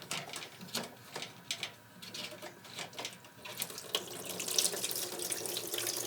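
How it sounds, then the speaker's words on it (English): Water running from a GE washer's drain pump filter into a bucket, a soft trickle that swells into a steadier, louder gush partway through. "Now I can just turn this filter to the left."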